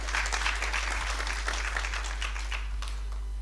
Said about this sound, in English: Can we give Dr. Jotham Musinguzi another round of applause?